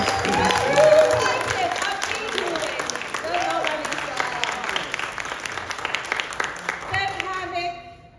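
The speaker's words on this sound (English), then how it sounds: "A round of applause" An audience at a steampunk convention tea dueling finale claps in a sustained round of applause that slowly fades out over several seconds, while people talk underneath.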